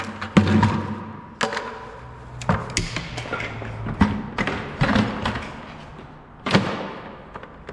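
Welding gear and tools dropped into a bucket, giving a series of loud clattering thuds and metallic knocks at irregular intervals, with several sharp impacts and rattles and no speech.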